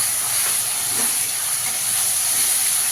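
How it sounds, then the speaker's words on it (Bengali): Onion paste frying in a hot pan while a prawn-and-jackfruit dish is cooked: a dense, even hissing sizzle fills the short stretch at close range with no voices. "পেঁয়াজ বাটাটা দিয়ে ভালো করে একটু কষিয়ে নিতে হবে"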